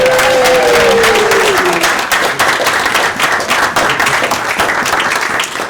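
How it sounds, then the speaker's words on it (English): A big round of applause from an audience at a speech event, loud and continuous dense clapping that holds steady throughout, with a brief whistle-like tone near the start. "So big round of applause."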